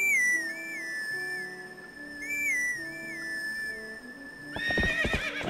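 A horse whinnies loudly in The Legend of Zelda: Twilight Princess HD, called by a short whistle blown on horse grass; a lilting whistled tune comes first, then the neigh bursts in near the end.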